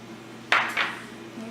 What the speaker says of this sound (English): You just want to give this a good mix to make sure that your hash browns are good and covered.